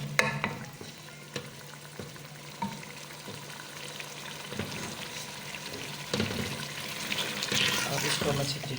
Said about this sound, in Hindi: अब इसको हम अच्छी तरीके से भून लेंगे।